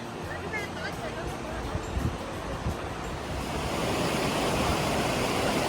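A river in Chatel, France rushes along with a steady broadband wash of flowing water, growing slightly louder toward the end, with faint wind on the microphone.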